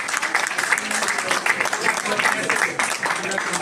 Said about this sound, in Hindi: मैं वैसे चाहता हूँ आप अपनी तालियों का योगदान दें